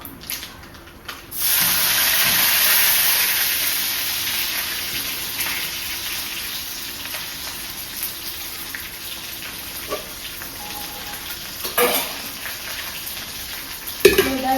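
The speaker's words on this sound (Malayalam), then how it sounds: "ഈ ഉള്ളി കറിവേപ്പിലയും ഒന്നും ഇട്ടിട്ട് നന്നായിട്ട് മൂപ്പിച്ചെടുക്കാം" Onions and curry leaves frying in hot oil, a loud burst of sizzling as they hit the pan, then a steady close crackle with a few stirring knocks, no talk.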